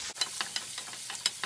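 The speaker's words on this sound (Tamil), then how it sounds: "இந்த வெங்காயம் நல்லா எண்ணெயிலேயே சுருண்டு முதல்ல வேகட்டுங்க." Onions and curry leaves frying in oil in a pan, with close, soft crackling sizzle and a few brisk stirring scrapes at an uneven rhythm.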